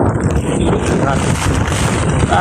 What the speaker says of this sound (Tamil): அவ்வளோத்துக்கு வந்து காற்று அடிச்சு கொண்டு பாருங்க